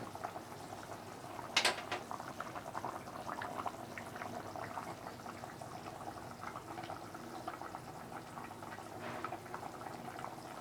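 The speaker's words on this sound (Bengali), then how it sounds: "এটাকে একটু ফুটতে দিতে হবে, ফোটার পর আমি মাছ দেব।" A pot of potato curry with pumpkin simmers at a steady boil, a soft continuous bubbling with small liquid pops, closely miked and fairly quiet, with a brief clatter near the start.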